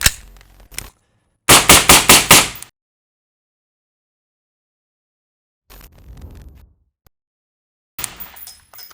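Suppressed M193 rifle rounds fired through a SOCOM 556 RC2 suppressor, a few loud sharp cracks with a rapid string of about six shots, separated by long silences.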